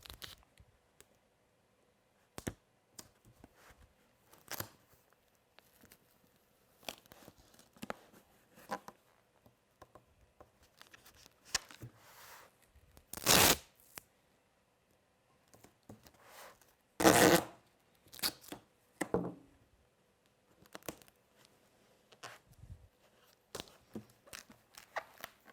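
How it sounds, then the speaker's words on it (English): Sticky tape tearing off a roll in a few sharp rips while pool noodle bumpers are taped, separated by quiet handling noises and soft rustles. "And then we can finish taping."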